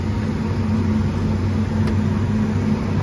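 A truck pulling a cattle trailer while driving in fourth gear: a loud, unbroken engine drone with a deep steady hum, heard from inside the cab with no variation in pace.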